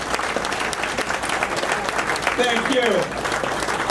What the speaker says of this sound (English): let's give them a North Miami round of applause